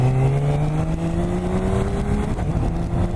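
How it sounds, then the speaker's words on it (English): A 2018 BMW K1600 GT motorcycle launches and accelerates hard, its engine note climbing steadily in pitch, loud and close under rushing wind noise. "that's how you properly launch this bike"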